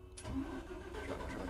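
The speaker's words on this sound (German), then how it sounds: "Schon mal Motor." A bus engine in the bus-driving simulator OMSI 2 cranks and starts, then settles into a low, steady diesel idle, heard quietly and alone.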